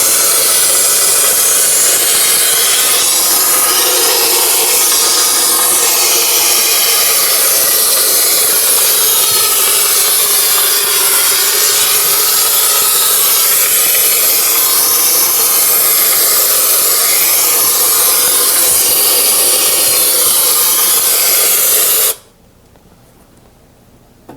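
Steady, loud hissing rush of a Cryonite carbon dioxide snow spray unit treating for insects underneath something, running continuously for about 22 seconds before cutting off abruptly.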